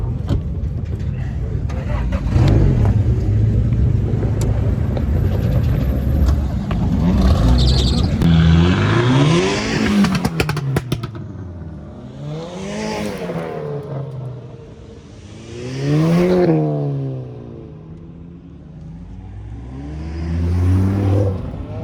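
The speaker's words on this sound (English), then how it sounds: "gotta love that turbo flutter." A Fiat Punto's turbocharged engine revs loudly in repeated rising and falling pulls, with fluttering turbo chatter between revs, at a car meet in Rotterdam; people talk faintly in the background.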